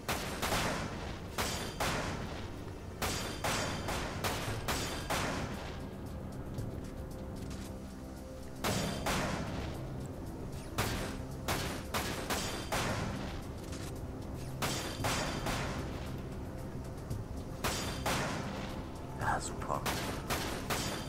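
Bursts of rapid pistol gunfire in the video game Final Fantasy VII: Dirge of Cerberus crack out repeatedly in clusters, some single shots, with pauses between volleys and a game-like backdrop.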